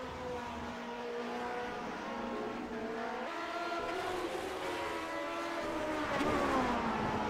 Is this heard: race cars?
yes